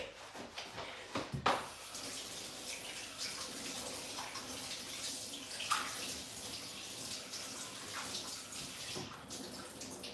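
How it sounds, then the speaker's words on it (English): Tap water runs steadily from a kitchen faucet as hands are washed before frying Nigerian puff puff, a continuous close splashing rush with brief louder splashes near the start and no talking. "I'm going to wash my hands, wear my gloves, then get ready to fry."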